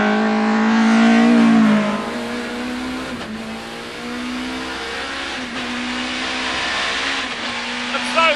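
A BTCC touring race car engine roars loudly and steadily as it accelerates and climbs through gears, rising in pitch with brief dips at shifts, under a driver's voice.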